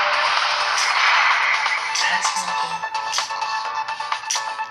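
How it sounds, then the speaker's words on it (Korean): A phone ringtone plays for an incoming call during a live stream of the game Digimon Soul Chaser, a loud, repeating electronic melody with sharp chiming notes that rings steadily for several seconds. "전화가 왔구나"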